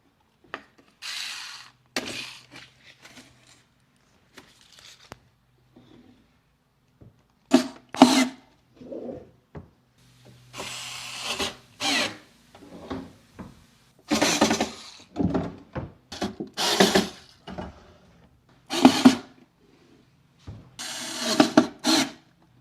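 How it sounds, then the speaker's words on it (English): Knobs being fitted onto a refinished wooden furniture piece, with bursts of close scraping, twisting and clicking hardware sounds separated by short quiet gaps. "Let's get these knobs on."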